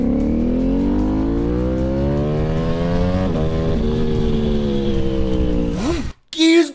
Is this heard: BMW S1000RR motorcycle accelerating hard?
yes